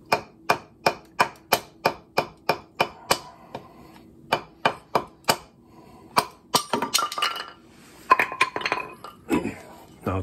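A Cold Steel throwing axe chops into sugar maple wood while a spoon is carved, giving a steady run of about a dozen sharp, evenly spaced strikes, then a pause and a denser, more irregular flurry of knocks and cracks.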